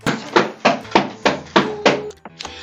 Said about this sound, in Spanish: Pisar muy fuerte.